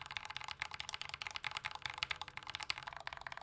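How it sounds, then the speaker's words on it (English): Rapid, steady clacking comes from the arrow keys of a J-01 mechanical keyboard with lubed Yellow Gateron Ink switches, a close, crisp run of keystrokes with no talking. "The arrow keys also sound nice."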